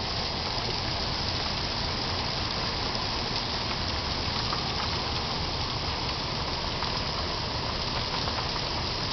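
A rain and hail storm in Lubbock, Texas, drums down as a steady, moderately loud wash of dense patter, with no speech and no single impact standing out.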